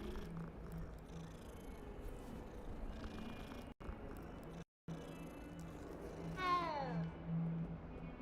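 A cat purrs in the Hogwarts Legacy video game, a steady low rumble running under game ambience, with a brief bright chirp or trill near the end.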